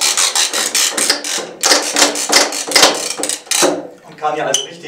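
Ratchet tensioner tightening polyester strapping band, a quick series of dry clicking ratchet strokes in an uneven rhythm, close and fairly loud, with someone speaking German over part of it.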